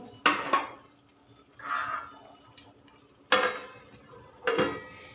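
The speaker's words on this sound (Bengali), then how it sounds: "এবার আমি এটা ঢাকা দিয়ে দেব, থালা দিয়ে সেদ্ধ হতে দেব।" A plate set over a cooking pot on the stove, producing several separate clanks and scrapes of metal and crockery spaced a second or so apart, close and fairly loud.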